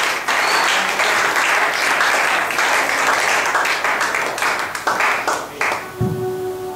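Audience applause at a children's book presentation, dense and sustained from start to finish, loud and close, thinning slightly near the end.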